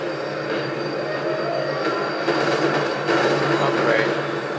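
A tram in the video game Max Payne 3 rumbles along the rails with a steady, loud rolling drone and faint wheel squeals, with voices partly mixed underneath.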